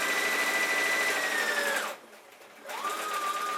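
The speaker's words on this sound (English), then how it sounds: "just stitch right along until you reach" A sewing machine stitches the front pockets of jeans, whirring steadily at an even speed, then pausing briefly before running again, close and alone.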